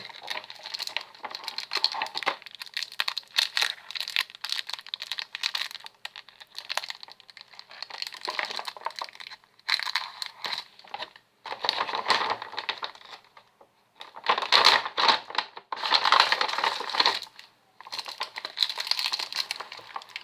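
A large pack of dishwasher tablets bought from a discount store is opened and handled, giving repeated bursts of crinkling, crushing plastic wrapper sounds, close and fairly loud, separated by short pauses.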